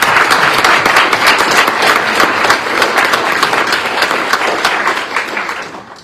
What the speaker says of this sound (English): Let's give Home a round of applause for all they do for MOCA